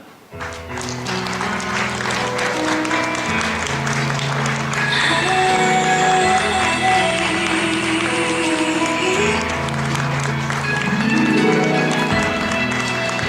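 Wedding guests in a hall applaud the bride's entrance with sustained, dense clapping over musical accompaniment, the applause steady and fairly loud throughout.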